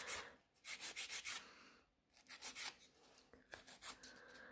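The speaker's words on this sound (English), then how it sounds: "I need to file the excess of the product, which I've got in there." A file working the excess product off a gel nail extension: fast, close, soft scratching strokes in three bursts with short pauses between, faint and without speech.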